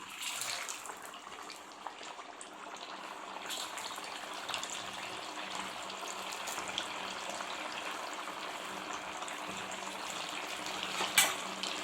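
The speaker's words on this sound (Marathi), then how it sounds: "आणि आता हे सगळे वडे तेलात तळून घ्यायचे आहेत" Sabudana vadas deep-frying in hot oil over a medium flame, a steady dense sizzle and bubbling that holds evenly close by with small crackles throughout and no voices.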